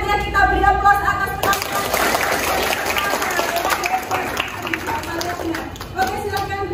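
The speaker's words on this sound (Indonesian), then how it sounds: "kita beri aplaus atas" A school classroom audience claps for a group that just finished a presentation. The applause is brisk, close and mixed, rising quickly and then thinning out, with voices over it.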